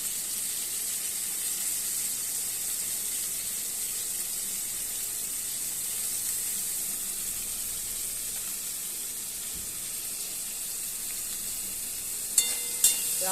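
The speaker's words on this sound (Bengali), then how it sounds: "আলুটা একটুখানি নাড়াচাড়া করে ভাজা করে নেব।" Potatoes frying in a pan give off a steady, even sizzle for the whole stretch, with a few sharp utensil clinks near the end as they are stirred.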